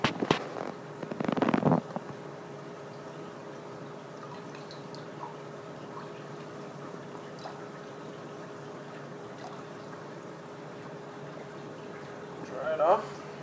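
Water splashes over a Vertex Cerebra pH probe in two short rinsing bursts, one near the start and one at the end, with faint drips and quiet room sound between them.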